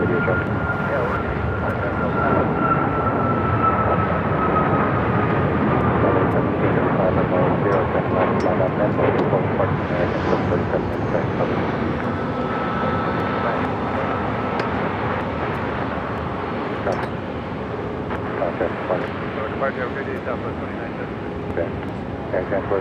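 American Airlines Boeing 737 jet taking off at Phoenix airport, a loud sustained engine roar with a steady tone holding throughout, with talk and radio chatter over it.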